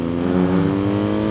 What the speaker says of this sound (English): That engine, when it wants to lay down the power,